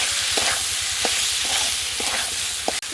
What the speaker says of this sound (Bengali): মশলার সাথে আবার একটু নেড়ে চেড়ে নিলাম